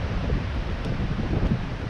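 Hurricane-force wind on a frozen fishing outing, a steady loud low roar buffeting the microphone for the whole stretch, with no voices.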